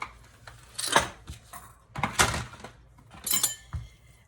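A knife cuts through washed zucchini and squash for the grill: three separate crunchy, clattering strokes against a cutting board, close and fairly loud, with short pauses between them.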